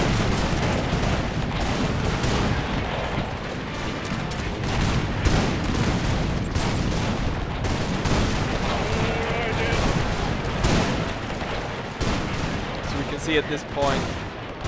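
Dense, continuous volleys of rifle fire and booming artillery from the Battle of Gingindlovu in the Anglo-Zulu War, with a fort firing on all sides, crackle and thud throughout while someone talks over the din.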